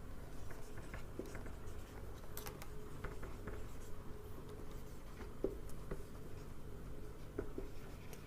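A pen writing on paper while working a class 6 maths exercise: faint, close scratching strokes in an irregular rhythm, with no talk.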